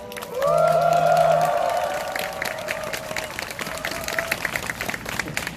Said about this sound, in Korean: 이 자리에 와준 우리 서로에게 큰 박수와 함성 부탁드리겠습니다